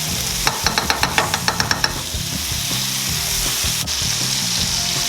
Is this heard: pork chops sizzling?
yes